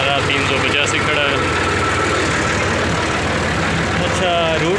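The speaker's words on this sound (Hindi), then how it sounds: "तो अभी ट्रैक्टर भी जो है ना वो स्लिप कर रहा है, ये देख रहे हैं।" A tractor engine runs steadily and loudly in the rain on a farm, with a Ford 4000 and a Massey Ferguson 385 working and the tractor slipping on wet ground. Its continuous rumble fills the whole stretch without a break.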